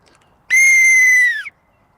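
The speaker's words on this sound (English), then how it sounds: "Let me blow the whistle a few times" A referee's whistle blown once as a walking football signal, a single sharp, loud, steady blast lasting about a second, heard alone.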